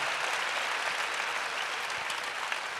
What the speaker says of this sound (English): Will you guys clap for Emily one more time just to give thanks for her words this morning?